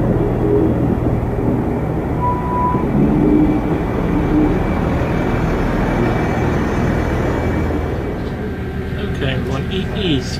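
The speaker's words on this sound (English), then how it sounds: "I have just boarded the 13:30 ARRIVA Trains Wales Service to Birmingham International" Onboard an ARRIVA Trains Wales class 158 diesel unit, a steady low rumble and rolling drone fill the carriage continuously, loud and even throughout.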